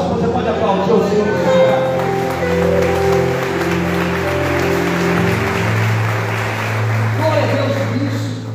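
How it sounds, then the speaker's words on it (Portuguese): A church congregation applauds together in one sustained, steady burst of clapping that stays loud throughout, with sung or spoken voices carrying over it. "Você pode aplaudir o Senhor."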